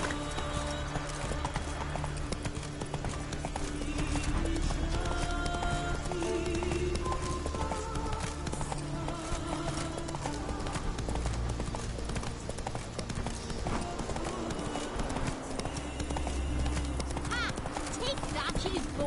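A horse gallops in The Witcher 3, its rapid clip-clop hoofbeats running steadily through the whole stretch alongside game music and voices, with a faint whinny.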